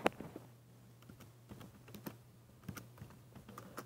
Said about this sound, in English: Just gonna quickly type a message.